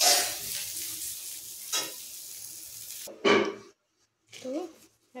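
Cauliflower fries in a pan with a steady hiss and sizzle, stirred now and then with a few clattering scrapes, and then the sizzling drops away into short bursts of quieter sound near the end.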